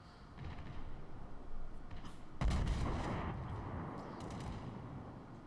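Heavy naval gun salvo from the battleship Colorado in World of Warships, a single loud boom around the middle that rolls into a long rumbling tail over steady background battle noise.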